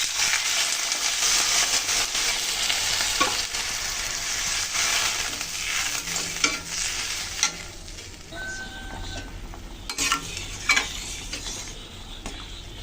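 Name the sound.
fried curry sizzling and being stirred after adding water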